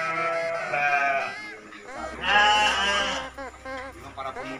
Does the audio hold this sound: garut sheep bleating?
yes